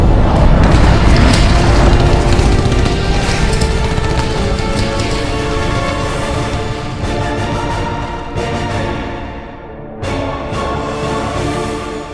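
A heavy, loud boom with a rumbling roar that slowly fades over several seconds, the noise tapering with a few breaks near the end.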